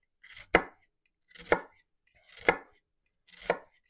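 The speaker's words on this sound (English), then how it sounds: "you're going to take your onion and cut it this way" Four evenly spaced knife strikes as an onion is cut down toward a fine brunoise dice, each a crisp close chop on the board, separated by short silences.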